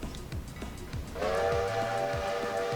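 A locomotive in the Railroader train game sounds a long, loud whistle over low rumbling engine noise as it passes close by.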